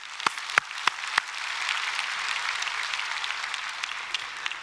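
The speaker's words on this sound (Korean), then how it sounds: "할렐루야 박수 드리겠습니다." A church congregation applauds during a Sunday worship service, with a few sharp claps first and then a steady wash of clapping that holds at moderate loudness throughout.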